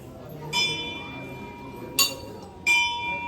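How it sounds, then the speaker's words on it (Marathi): Temple bells at Navshya Ganpati temple strike three times, each a bright metallic ring with a lingering tone, over a low crowd murmur. "किती साऱ्या घंटा आहे"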